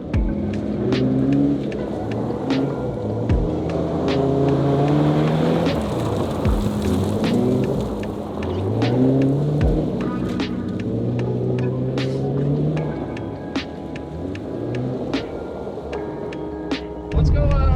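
An AWD four-rotor rally car does donuts on tarmac, its engine revving and falling in repeated swells at mid distance with sharp intermittent clicks and pops, under occasional talking.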